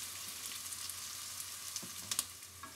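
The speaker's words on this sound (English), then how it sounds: "I'm going to just set that now, sizzling a little bit too much, and cook these for about 5 minutes until they're soft" Onions sizzle in a pan as the base for a curry: a steady close crackle with small irregular pops and a few sharper spits near the end, and no voices.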